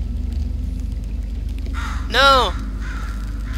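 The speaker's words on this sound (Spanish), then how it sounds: "No, un pajarito. El pajarillo que decía Whitley." In the video game Portal 2, a crow gives a single harsh caw over a low steady hum, while a person speaks nearby.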